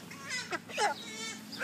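A chicken on a farm gives a few short honking, squawking calls in quick succession, moderately close against a quiet background with no talk.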